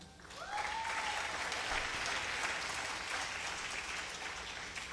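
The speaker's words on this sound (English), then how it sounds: "she deserves a huge round of applause for that" Steady, continuous audience applause after a Bharatanatyam arangetram dance performance, a dense wash of clapping heard from some distance at a fairly low level, with a brief tonal sweep near the start.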